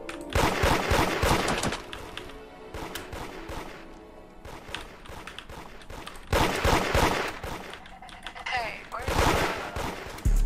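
Gunfire in the Roblox game Da Hood arrives as rapid bursts of shots in loud clusters, with short lulls between them. Voices talk over parts of the action.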